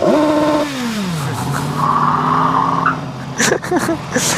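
A 2016 BMW S1000XR motorcycle engine is heard while riding: a loud, close engine tone drops in pitch as the revs fall, then settles into a steady drone mixed with rushing wind noise.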